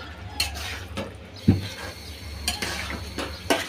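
Desi tomatoes stirred into spinach in a pan, with utensil clinks and scrapes at a steady, unhurried pace over a soft sizzle, close up with no talking.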